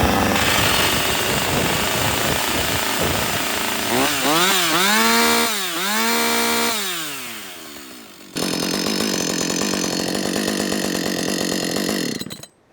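A Husqvarna 562XP chainsaw pulls over and fires, its engine surging up and down in pitch for a few seconds, briefly dropping off, then roaring back to a loud, steady, high fast idle close by.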